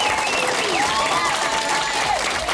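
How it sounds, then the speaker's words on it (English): A crowd at a Charlestown city council meeting cheers and applauds after a sewer ordinance is tabled, a dense steady wash of clapping with whoops and shouts on top, loud and continuous. "A move that drew cheers from the crowd and praise from Hodges."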